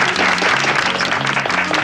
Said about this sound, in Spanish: Un aplauso para Tota.